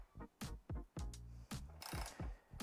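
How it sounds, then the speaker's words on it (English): An 8mm socket ratchet works a bolt loose from the left side cover of a KLX 150 BF motorcycle, giving loud, close bursts of rapid clicking in a rhythm of short strokes separated by brief pauses. "Next thing we'll do to access the side case and the seat strap is remove the left hand side cover. We'll do this with an 8mm socket."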